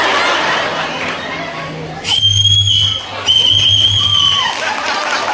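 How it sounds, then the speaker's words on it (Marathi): A woman whistles into a microphone at a community haldi-kumkum and prize-giving event, two sustained, high, loud whistle phrases over crowd chatter and light laughter. "इतकी सुंदर शिट्टी वाजवलेली आहे"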